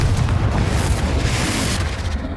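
A Confringo blasting curse explodes in Hogwarts Legacy, a loud, dense booming burst with rumbling low end that fills the whole short moment before tapering slightly at the end.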